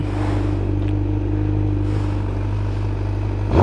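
A motorcycle with its exhaust baffle removed idles with a deep, throaty exhaust rumble, steady and close, then a brief rev rises at the end.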